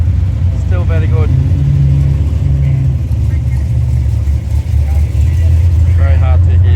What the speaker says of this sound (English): Very hard to hear though, babe, with the cars around.